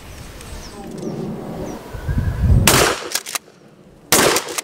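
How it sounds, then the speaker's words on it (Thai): A shotgun fires Thai Arms shotgun shells, with two loud sharp blasts in the latter half, each ringing off briefly, following a stretch of outdoor background noise. "เดี๋ยวเราจะทดลองยิงด้วยกระสุนลูกซองของไทอาร์มดูนะครับ"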